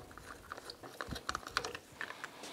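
A T30 Torx bit backing out the bolts of a small deflector plate on a Polaris RZR 900S front brake, a faint close series of ratcheting clicks and metallic ticks in irregular bursts, with no talking.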